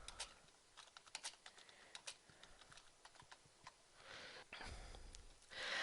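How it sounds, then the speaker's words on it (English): Typing on a computer keyboard, a quiet, uneven run of close key clicks with short pauses and a louder clack near the end, no talking. "Now you can start typing"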